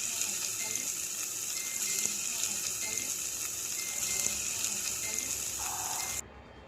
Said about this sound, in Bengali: এখন গরম তেল এখানে দিয়ে দিলাম